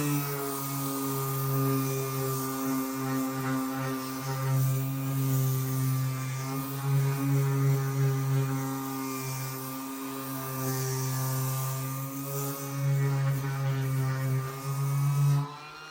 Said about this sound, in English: Harbor Freight's new battery-powered DA.